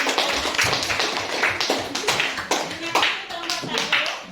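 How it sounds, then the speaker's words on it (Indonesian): A group, likely a classroom, claps hands in a loud, rhythmic burst of roughly regular beats, with some children's voices mixed in. "kita kasih tepuk tangan yang meriah"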